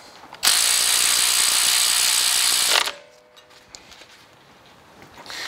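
Power ratchet tightening brake caliper pins on a 2015 Subaru Forester, one loud continuous whirring burst lasting over two seconds, close up, then quiet workshop noise.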